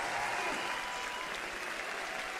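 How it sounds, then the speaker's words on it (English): A dense arena crowd at a Dota 2 The International event roars with steady applause and cheering that fills the space without letting up. "can we get a huge round of applause and a cheer for GH and Nigma Galaxy for entertaining us at this wonderful TI"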